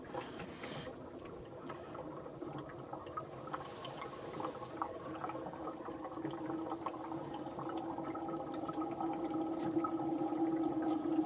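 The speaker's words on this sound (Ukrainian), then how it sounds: "Чекаємо, поки в блок з радіатора передлється." Coolant trickles from a radiator into a tractor's engine block on a frosty, snowy day, a quiet, continuous gurgling flow that slowly grows slightly louder.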